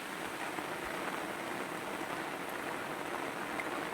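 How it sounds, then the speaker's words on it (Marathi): Steady, dense hiss of heavy monsoon rain pouring down near a river in a village, constant and even throughout with no voices. "पाऊस चालू आलो रे भरपूर"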